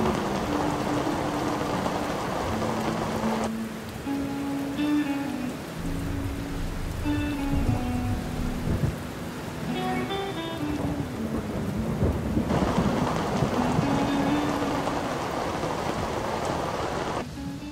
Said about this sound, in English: So I suppose with all the lightning storms, we start thinking about where we're going to shelter for the winter.